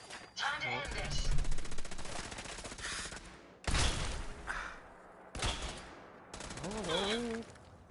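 A Gauss rifle fires in Fallout 4 as a series of loud, booming shots with crackling, whooshing tails, separated by short gaps, with someone talking in between.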